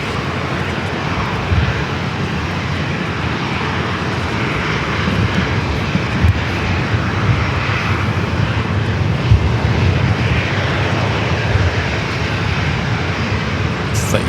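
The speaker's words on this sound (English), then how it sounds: "It's that United flight coming from Dulles" A United airliner arriving from Dulles at San Diego airport, its jet engines a loud, steady roar that fills the scene throughout, with faint voices beneath.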